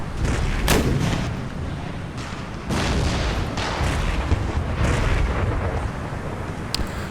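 Siege cannons fire in a strategy battle game set at Damascus, a rapid series of heavy booms over a continuous rumbling din of battle, loud and close with no talk.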